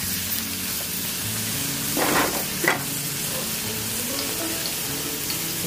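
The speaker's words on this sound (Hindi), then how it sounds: "टमाटे अब हम क्या करेंगे इसको अच्छे से हिला लेंगे" Medium-sized tomatoes frying in a pan under a steady soft sizzle, with two distinct scraping stirs of the spoon close by around the middle.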